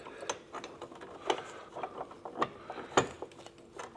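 A ratchet wrench tightens mounting bolts on a Subaru rear suspension arm from a Hardrace kit, with repeated close mechanical clicks in uneven strokes.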